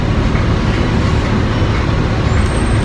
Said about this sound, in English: We're on a shuttle.